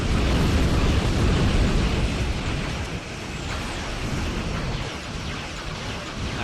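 Torpedo salvo firing and detonating in a Star Trek Online space battle, a loud continuous roar of blasts and rumble that holds steady, dips briefly midway and then carries on.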